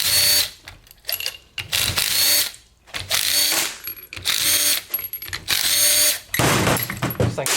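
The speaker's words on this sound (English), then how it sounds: "Pull this pump apart." Repeated ratcheting and clicking bursts as a burnt, overheated 4L60e transmission pump from a 2008 vehicle is unbolted and pulled apart, several tool runs with short pauses between, fairly close and loud with no talking.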